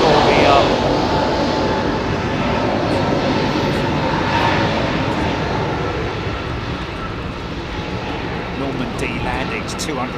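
A large airliner takes off at Heathrow Airport, its jet engines a loud, continuous broadband roar that fills the whole stretch and eases off slightly toward the end.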